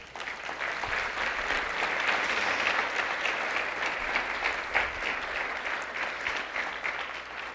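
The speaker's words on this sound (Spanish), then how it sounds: "Dale palmas al Rey" A church congregation claps for God during a sermon, a steady wash of applause that swells slightly in the middle and carries on evenly throughout.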